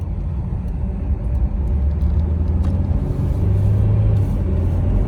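A used auction car is driven away from a parking lot, its engine rumbling and rising as it works up through the gears, with a steady low drone and road noise from inside the cabin.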